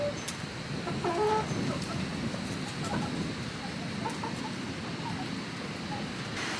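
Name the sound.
hens clucking in coop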